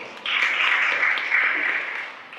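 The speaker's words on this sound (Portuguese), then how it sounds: "Quem não tem, não tem filho, aplaude, por favor." An audience at a live comedy talk claps when asked, a sudden burst of many hands that swells, holds steady for about two seconds, then thins out.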